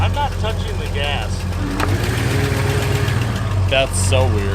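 The V8 of a 1960s Ford Galaxie idles steadily close by, its hum rising as the steering wheel turns, while someone talks over the running engine.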